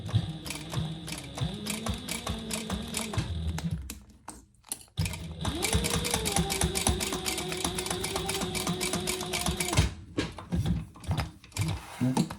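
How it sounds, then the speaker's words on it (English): Sewing machine back stitching an eyeglass case pouch, a fast rhythmic mechanical chatter of needle strokes in bursts, pausing briefly midway before resuming, with the machine near and loud. "Now I'm back stitching there quite a bit, actually."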